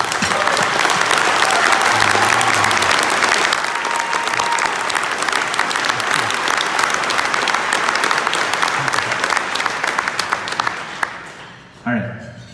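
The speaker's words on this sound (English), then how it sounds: "I want you guys to give the hardest clap of your life to Live Different" An audience at a speaking event at a human rights museum in Winnipeg breaks into loud, sustained clapping. The dense applause holds for about eleven seconds, then thins and fades out.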